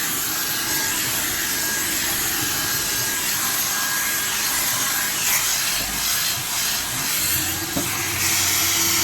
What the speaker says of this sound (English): I'm just going to go ahead and continue to style my hair with the round brush.